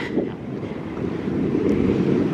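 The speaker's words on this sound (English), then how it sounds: "And yes, it is windy, although the breeze feels good versus bad." Wind buffets the microphone in a low, rumbling gust that swells slightly, steady and close throughout.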